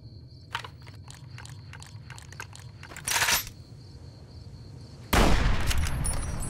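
Video game gunfire from Fallout: New Vegas rings out as a string of rapid sharp cracks, followed by two louder bursts, one brief and one sustained, over a low background hum.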